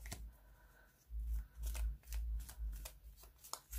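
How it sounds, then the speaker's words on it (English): Love oracle cards being shuffled by hand, a run of quick papery riffles and soft slaps in uneven bursts, close and fairly quiet with no talking. "So I'm going to shuffle these on camera."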